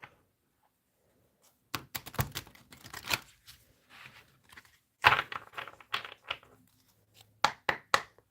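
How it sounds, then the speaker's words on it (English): Playing cards are shuffled in several short, crisp bursts of riffling and snapping, close by, separated by brief pauses of near silence. "Let's do one more shuffle."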